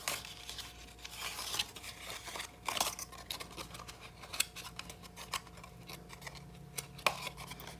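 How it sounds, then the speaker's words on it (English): Cardstock for a gingerbread man card and treat box is creased and folded along its score lines, giving quiet, intermittent papery crinkles, snaps and rustles close by, with no talking. "I'm just gonna go ahead and fold along all of those score lines"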